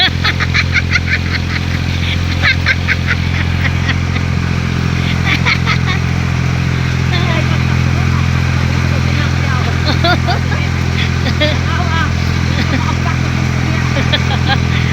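A motorcycle engine runs steadily and loudly throughout, with a constant low drone and faint clatter, while voices talk intermittently over it.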